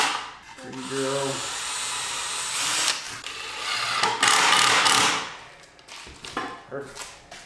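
A power drill bores into wood in several bursts, a high whirring grind that rises and stops, with short pauses and bumps between runs and a voice speaking nearby.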